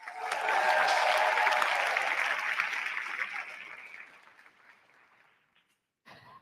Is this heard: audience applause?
yes